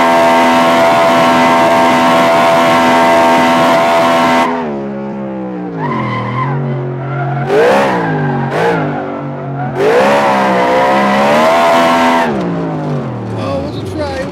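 A car doing a third-gear burnout, engine revving hard with a steady harmonic drone, then swooping up and down through several sharp rev rises and drops, with tire squeal mixed in, loud and close.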